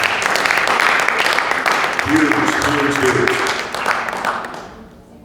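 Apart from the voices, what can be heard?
audience applause at conference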